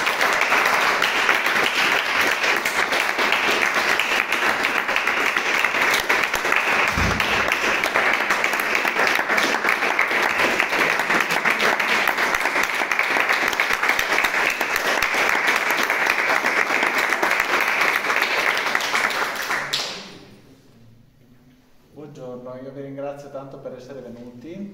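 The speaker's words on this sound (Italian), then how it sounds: "accogliamo tutti insieme con un caloroso applauso il maestro Giovanni De Cecchi." Loud, sustained applause from a large audience at a clavichord recital, steady clapping for about twenty seconds before it fades out and a voice begins speaking.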